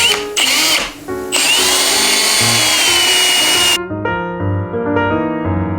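A power drill whines at high speed while boring into the body of a 1995 4x4 7.3 Econoline van, loud and close, with a short pause near the start and the motor spinning down toward the end.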